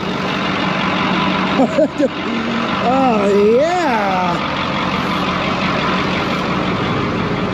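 A 1972 Brockway 358 road tractor truck sits idling with a steady, loud engine drone, while someone talks excitedly over it for a few seconds.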